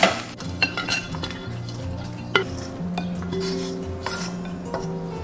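Crucian carp stir-fried in a wok with chicken bouillon and sugar, the spatula clinking and scraping against the metal in quick strokes over a light sizzle.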